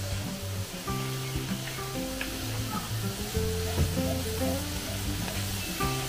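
Pork intestines for bopis frying in a pan just after soy sauce goes in, giving a loud, steady sizzling hiss close up, with a few light stirring sounds and a low sustained background hum.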